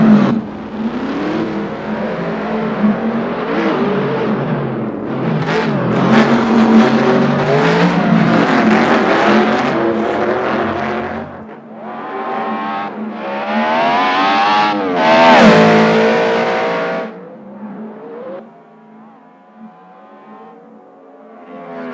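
A car with wheels taken from a 1966 Corvette, heard driving with loud, rising and falling engine revs and long squealing tires, close and sustained, with repeated bursts of acceleration and wavering screeches.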